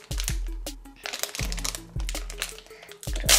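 Crinkly plastic rustling and crackling as a small Skrepyshi collectible toy packet is torn open, in close, busy bursts of crumpling noise that carry on for several seconds.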